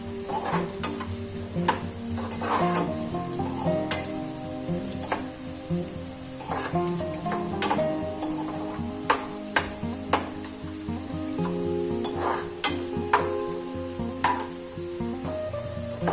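Sliced onions sizzle steadily in a pan while being browned lightly for chicken pulao, with a dense crackling fry throughout and occasional spoon scrapes and taps against the pan.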